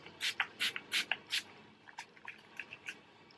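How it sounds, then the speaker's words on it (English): Makeup Revolution Pro Fix fixing spray hisses in a quick series of short, close bursts, about five strong puffs followed by several fainter ones. "I always actually tend to spray a little bit out first because it doesn't always come out straight away."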